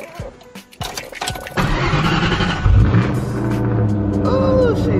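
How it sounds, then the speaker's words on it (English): A car engine cold-starts with a loud crank and catch, then settles into a steady, loud idle that holds to the end, with a brief rev midway and some background noise before the start. "Cold start."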